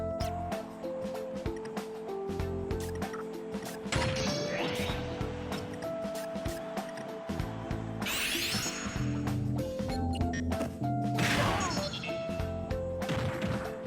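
Mr. Game & Watch's Final Smash crashes through stage barriers in Super Smash Bros., a dense run of loud electronic whacks, smashes and rumbling impacts with bright bursts, alongside chiptune-like tones.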